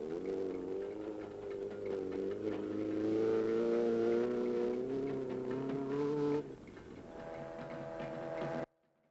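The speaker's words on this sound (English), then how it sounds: "is car number 25, charging across the plains of Kenya at full throttle" Rally car number 25 in the 1969 East African Safari Rally charges across the Kenyan plains at full throttle. A strained, buzzing engine note climbs steadily, then drops off abruptly to a quieter tone before cutting out.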